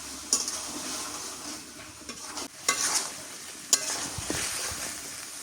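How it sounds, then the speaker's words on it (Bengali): Meat and potatoes stir-fried in a pot in a village kitchen, a steady close sizzle and hiss broken by a few sharp scrapes and clinks of a spoon against the metal. "আলু দিয়ে আর একটু কষাই নিই।"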